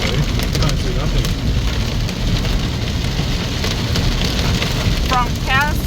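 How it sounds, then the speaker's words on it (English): Heavy hail pounds a moving car during a road trip from Adelaide to the Gold Coast, making a loud, dense, unbroken patter on the roof and body. Faint voices are heard briefly near the end. "And now it's hailing. Very strong."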